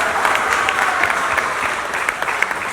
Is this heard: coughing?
no